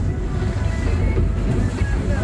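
Waves splashing against a bumpy fireworks cruise boat on the Fourth of July, a brief, loud rush of churning water and wind buffeting close to the microphone.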